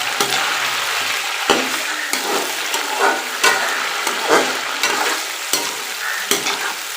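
Chicken fries in a pan for bhindi chicken, a continuous sizzle broken by frequent sharp scrapes and clatters as the pieces are stirred, close and fairly loud.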